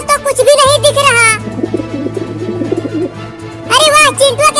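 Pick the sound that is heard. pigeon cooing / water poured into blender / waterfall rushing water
pigeon cooing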